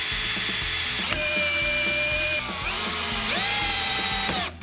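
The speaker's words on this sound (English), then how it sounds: "Screw your shelf and mounting rail together, but make sure that you pre-drill," A power drill whines at high speed, pitch dipping and recovering as it bites into timber, with a brief stop and restart midway.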